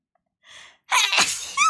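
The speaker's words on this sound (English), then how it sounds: "Wow, there were at least 4 sneezes." A person sneezes close to the microphone: a short breathy intake, a brief pause, then a sharp, loud burst with a quick follow-up breath.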